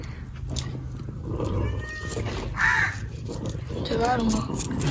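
A cat meows a few times in a home kitchen where fish curry is being cooked, the calls short and mid-distance over steady background noise and low clatter.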